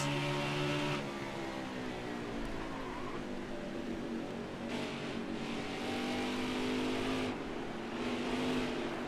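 A large pack of stock cars races at New Hampshire in NASCAR Heat 5 with a 1998 mod, their layered engines droning and shifting pitch together as the cars roar past continuously.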